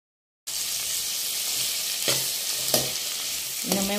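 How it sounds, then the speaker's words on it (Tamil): Onions sizzle and sauté in a pan over high flame while cooking a paneer butter masala base, a steady loud frying hiss with a few brief stirring scrapes and clinks, no voices. "இப்போ ஸ்டவ் கொஞ்சம் ஹை ஃப்ளேமில் வச்சுக்கலாம். நல்லா வதங்கட்டும்."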